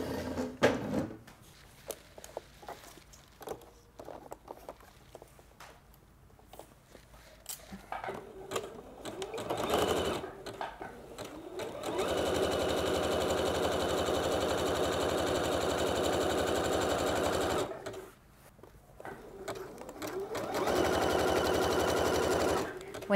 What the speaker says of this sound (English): I'm going to zigzag and then I'm going to overlock.